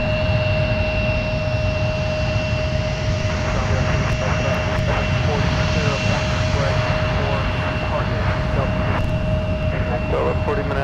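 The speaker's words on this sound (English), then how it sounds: "let's take another look at our A220 touching down on the South Parallel runway" An Airbus A220 jet arriving from Santa Ana, California touches down on the south parallel runway at a busy airport, its engine roar loud and steady throughout with a sustained whine, while a voice talks over it.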